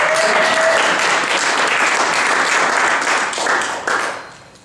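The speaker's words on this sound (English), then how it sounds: "Round of applause." An audience applauds steadily at a talk on oil train hazards in Santa Clara Valley, a dense, loud wash of clapping that holds for several seconds before thinning and fading at the end.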